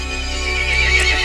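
Monstrous horse in the game Resident Evil Village letting out a loud, close whinny with a tonal, quavering neigh that rises toward the end, with faint hoof clatter beneath.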